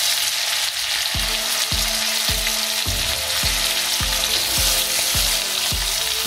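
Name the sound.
meat frying in pan for Nepalese postnatal dish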